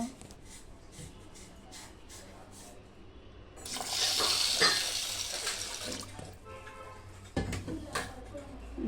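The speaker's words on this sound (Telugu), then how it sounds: "బాగా ఒక 2-3 టైమ్స్ బాగా కడుక్కోవాలి. ఇలా వాష్ చేసుకొని" Dal lentils are washed in water, with a quiet stretch of faint handling giving way to a burst of running and sloshing water, then a few clatters and splashes near the end.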